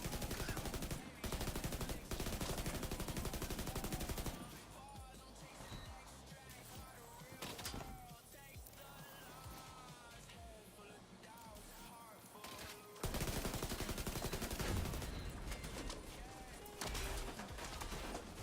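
Sustained rapid automatic gunfire in a PvE Dark Zone shooter game, the magazine emptied in long bursts with a brief lull midway, loud and close, with faint voice chatter beneath.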